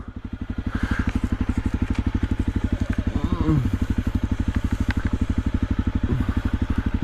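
A Honda CRF250L dirt bike rides through snow in the French Alps, its single-cylinder engine thumping in a fast, even pulse close to the microphone throughout, with a brief rev partway and faint sounds of the rider.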